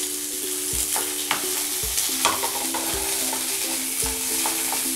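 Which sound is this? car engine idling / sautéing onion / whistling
sautéing onion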